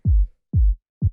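Bottom-layer tech house kick drum with a solid, deep low end: three thumping hits, round and boomy with little top, the last one cut shorter, sounding alone and close.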